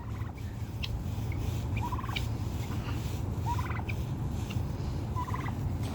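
A tom turkey gobbles outdoors in three separate bursts spaced a couple of seconds apart, moderately distant over a constant low background rumble.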